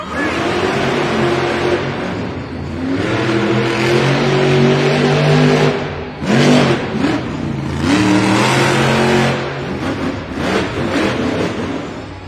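Monster trucks fire up their engines at a Monster Jam arena event, with loud, close revving and several rising, sustained roars that surge and drop, no talk over them.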